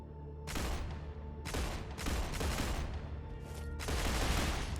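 Gunfire in StarRupture: several loud, close bursts of rapid shots in quick succession with short pauses between them, each burst sharp and booming.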